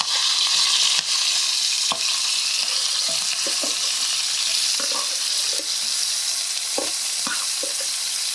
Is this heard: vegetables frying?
yes